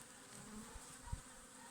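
Honey bees at a strong hive of about five frames, lightly smoked by the beekeeper in winter, make a faint, soft buzzing hum with a couple of low muffled thumps.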